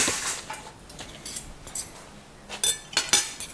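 Metal cutlery clinks and rattles in a home kitchen while a frittata is served, light scattered chinks building to louder, brighter clatters near the end, close by with no talking.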